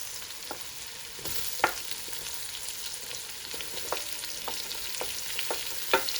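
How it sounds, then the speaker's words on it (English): Onion and peppers frying in a pan for brown chicken stew, a steady close sizzle broken by irregular scrapes and taps of a utensil stirring through the vegetables. "Going to fry up all that onion. Going to add in the peppers."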